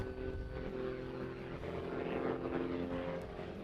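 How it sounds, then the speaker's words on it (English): A Skybolt biplane flying precision aerobatics at an air show gives a steady, distant propeller-engine drone, fairly faint and continuous throughout. "he demonstrates the arts of precision aerobatics by forcing this big biplane to tumble out of control"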